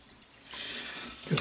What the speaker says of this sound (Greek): Θα ρίξουμε και το υπόλοιπο νερό